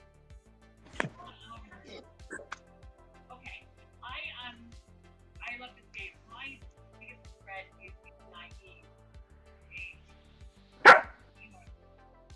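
A German Shepherd barks at intervals, several short barks and one loud sharp bark near the end, close by, while people talk over a game livestream.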